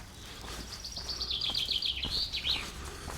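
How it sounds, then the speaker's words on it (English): Birds chirp and tweet in quick, high, rising and falling phrases from somewhere in deep, tropical-looking bush on the edge of a gorge, fairly clear over a steady low outdoor hum. "Birds are tweeting."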